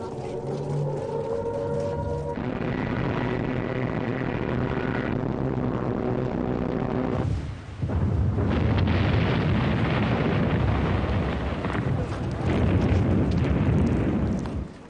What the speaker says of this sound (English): In early 1941, the Luftwaffe bombed Malta.